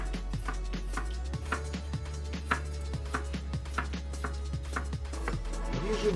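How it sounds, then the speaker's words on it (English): A knife chops an onion steadily on a cutting board, a quick regular run of close, crisp taps over a low background hum. "Let's cut the onion for frying."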